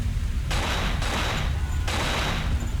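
Gunshots from the video game Cold Fear sound as three loud, harsh blasts in quick succession, each trailing off into noise over a constant low rumble.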